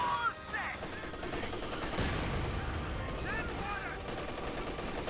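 Rapid MG34 machine-gun bursts ring out in a Company of Heroes 2 battle, mixed with mortar and other gunfire throughout, alongside a commentator's voice.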